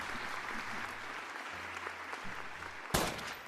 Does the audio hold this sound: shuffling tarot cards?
no